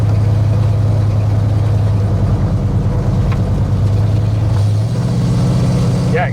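A neglected 1967 Lincoln Continental, sitting for 29 years, drives with its engine running as a loud, steady low rumble heard from inside the car, the pitch shifting smoothly partway through as it changes gear.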